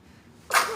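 A single sharp sneeze bursts out close and loud after a moment of near silence.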